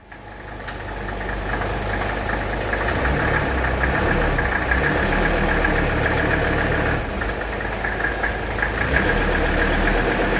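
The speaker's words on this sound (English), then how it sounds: "I need to crank the car and put the AC on high." A 1985 Mercedes 300TD diesel engine idles cold after sitting overnight, with the AC switched on high, giving a steady, close, continuous rumble with a faint knock throughout and no speech.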